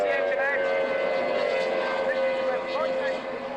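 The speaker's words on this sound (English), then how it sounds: "He hooks the boat round, puts the trim buttons on, trims the engine out." A Formula 2 racing powerboat engine drones steadily as the boat passes during a race at Fairford in 1994. A commentator talks over the sustained, fairly loud motor.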